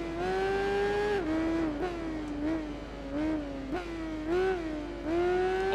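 Motorbike engines whine and race in the video game Tourist Trophy during a K1200R Cup event, a steady close tonal engine drone rising and dipping through gear shifts.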